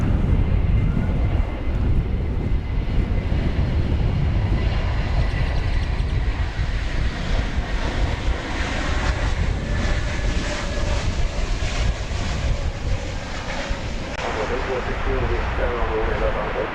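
A Spirit Airlines passenger jet at DFW Airport produces a loud, continuous roar that holds steady for the whole stretch, with voices talking over it.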